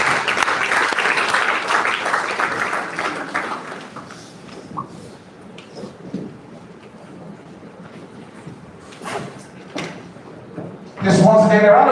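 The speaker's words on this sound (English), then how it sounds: "A round of applause, please." Applause from an audience at a hospitality and tourism stakeholders' meeting in Edo State, loud at first then thinning into scattered claps and room noise, with a sudden loud burst at the end.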